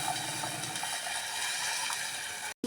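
Hot water is poured into a roasted masala paste in a cooking pot, making a steady, close gushing and bubbling rush that runs continuously before stopping abruptly near the end.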